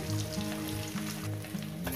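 Parshe fish fry in hot oil, producing a dense, continuous crackling sizzle, close and steady with no voices over it.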